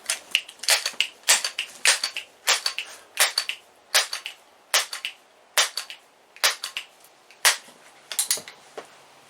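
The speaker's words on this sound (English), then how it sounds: "we're going to do 2 shots of each over the Chrony, each at 10 pumps" A Crosman 1377 air pistol is pumped ten times, each stroke a sharp rhythmic rasping clack repeated in evenly spaced bursts, close and loud with quiet gaps between.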